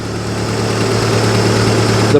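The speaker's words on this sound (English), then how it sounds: "the whole engine's, all of it's circulating the good old antifreeze through it and flushing out all that lake water" A boat engine idles steadily up close while antifreeze is flushed through it during winterizing, giving a constant low rumble with light vibration and no talking.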